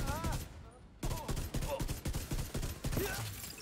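Rapid gunfire from The Ravenous, an exotic raid rifle in The Division 2, crackles in quick, loud bursts with brief gaps, mixed with game effects and faint background voice.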